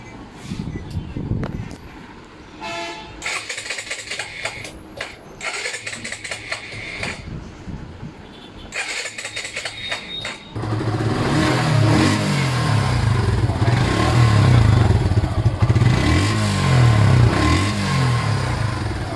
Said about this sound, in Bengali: তো আমি আপনাদেরকে বাইকটার সাউন্ড শোনাচ্ছি